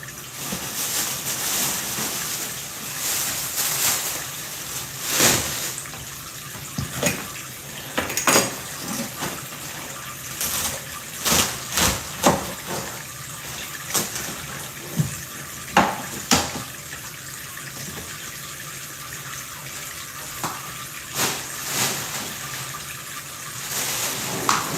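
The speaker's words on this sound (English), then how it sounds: "And I got water running because when I cut them, I'm going to put them in that sink." Tap water running steadily into a kitchen sink, a loud continuous rush with occasional knocks and clatters on top.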